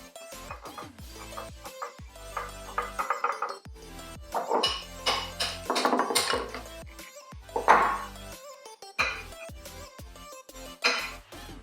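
Ceramic plates clink and clatter as they are handled and set down, a series of sharp, close knocks and rattles.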